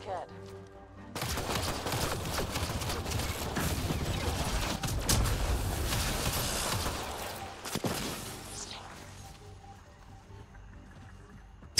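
Sustained gunfire in the video game Mass Effect Andromeda, a dense rattling burst of shots running for several seconds with a sharp crack near the end before fading into quieter ambience.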